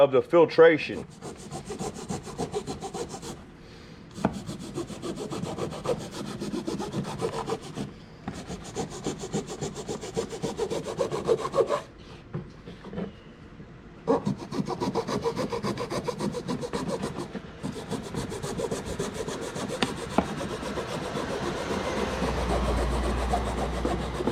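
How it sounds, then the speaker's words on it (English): A hacksaw blade rasps back and forth through the metal casing of a truck's oil filter, a steady, close scraping rhythm with a few short pauses between runs of strokes. "Anything extra is gonna be me cutting it with this hacksaw blade."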